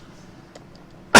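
A single short, loud cough bursts out at the very end after near silence, from a person painting a Christmas scene.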